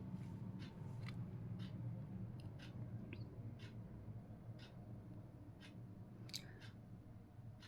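A pen scratches across paper in short, faint strokes, spaced irregularly and close by, with no talking while the book title is written out.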